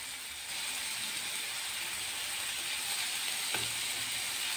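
Potatoes with turmeric frying in a pan, giving a continuous close sizzle with a brief scrape of stirring near the end; no voices.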